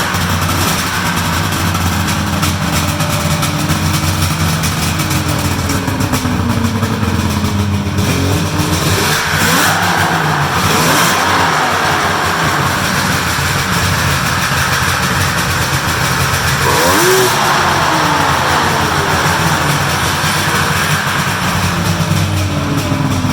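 Polaris triple-cylinder snowmobile engine on a cold start, a loud, steady roar that holds throughout with rising revs and a few throttle swells, close to the engine with no voices.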